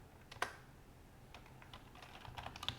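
Soft keystrokes tap out a command on a computer keyboard in a quiet room, a sharp first click followed by a short pause and then a quick irregular run of faint, close taps.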